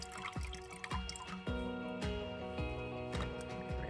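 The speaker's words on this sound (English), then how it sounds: "So we're going to gently squeeze out extra water" Water dripping and trickling from a soaked small hand-loom woven piece being gently squeezed, a series of irregular close drips and splashes, quiet, with faint voice in the background.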